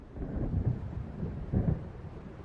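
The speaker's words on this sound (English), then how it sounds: "It seems there's a storm coming." Thunder from an approaching storm rumbles in Alan Wake, two deep, muffled rolls swelling a second apart at a distance under a steady low wash of weather noise.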